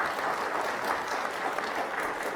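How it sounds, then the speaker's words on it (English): Steady audience applause fills a lecture hall after a question from the crowd, even and continuous without talk. "Give them a round of applause for the question."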